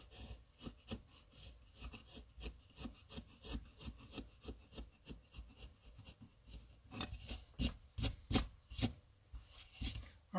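Basswood relief carving with a hand skew knife, cutting down into a corner: repeated close, quiet slicing and scraping strokes in an uneven rhythm, growing sharper and louder toward the end.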